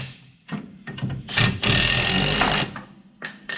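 A Milwaukee power tool runs in bursts while working on 1970 Ford suspension control arms and ball joints, with short revving pulses building into a loud sustained whir of about a second before stopping.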